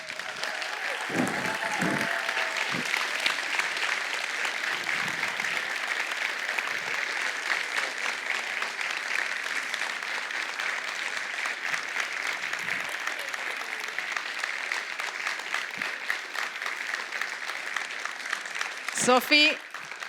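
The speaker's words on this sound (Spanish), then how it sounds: "les pido ahora un enorme aplauso para Sofía Scarone" An enormous ovation for Sofía Scarone at a results and impact event for the Pensar en Grande program, long continuous crowd clapping lasting some twenty seconds, with a brief voice early on and a few sharp sounds near the end.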